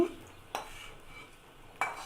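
Rice fried in oil is tipped into a pan of fried pointed gourd and potatoes and stirred, with faint scraping and two sharp utensil knocks against the pan over a soft background.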